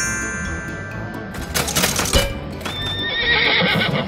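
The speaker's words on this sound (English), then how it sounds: "It's a horse, and it says neigh." A loud, close horse whinny rises and falls, with a faint tick of hooves or clatter at the start and no talking.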